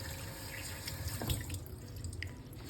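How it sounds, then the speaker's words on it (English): Running tap water splashes steadily into a sink as enoki mushrooms are rinsed, a soft continuous flow with a few drips. "Rinse it and squeeze out some extra water, then it's ready to be used."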